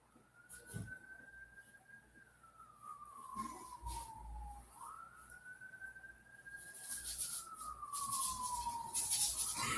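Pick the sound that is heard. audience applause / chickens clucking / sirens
sirens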